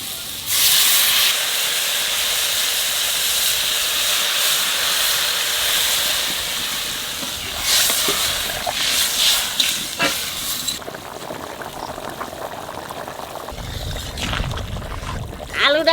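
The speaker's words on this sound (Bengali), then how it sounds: "এইবার জল দিয়ে দেবো।" Water poured into a hot pan of potatoes for a festival home-cooked meal hisses and steams loudly and continuously, with crackling bursts and some clatter later on, while faint talk can be heard underneath.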